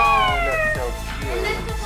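Kittens being dressed up meow loudly in a repeating series of high, wavering cries, close by, with a voice talking over them.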